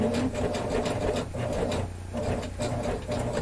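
A coverhem sewing machine stitches fold-over binding onto a leopard-print top, running in a steady, loud, continuous mechanical whir with rapid needle chatter and brief dips in speed.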